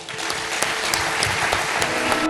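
A TV studio audience applauds, a loud, close, continuous patter of clapping with a few sharper claps standing out, with no voices over it.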